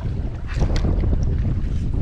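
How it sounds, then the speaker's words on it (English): Heavy wind buffeting the microphone while inshore fishing from a Gheenoe boat, a low rumbling roar that stays constant and close, with no voices. "I apologize for the wind over there"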